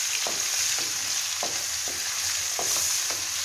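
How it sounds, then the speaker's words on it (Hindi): Spoon stirring ginger garlic paste in a frying pan, quick scraping strokes repeating at a steady rhythm over a constant close sizzle of hot oil, with no talking. "अदरक लहसुन का पेस्ट जो है वो ऐड कर दिया और उसको चम्मच के साथ हिलाएंगे"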